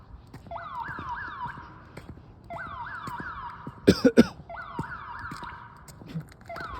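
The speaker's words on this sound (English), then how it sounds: "The alarm again. Hasn't gone off in a week, but now it's doing it again." A security alarm repeatedly going off, a possible car alarm sounding from behind the building: rising electronic whoops in repeated bursts at moderate distance, with a cough and small noises in between.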